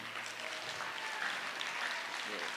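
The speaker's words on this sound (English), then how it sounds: "How about another round of applause for Brendan and Calvin" An audience claps for two performers at an emcee-led event, a steady, moderately distant wash of applause filling the whole stretch without clear breaks.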